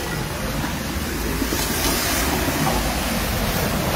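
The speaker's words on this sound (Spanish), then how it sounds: "Olas gigantes." Giant sea waves crashing over and flooding the Garachico promenade on the coast, a loud, continuous roaring wash of surf and spray with no breaks, no voices heard.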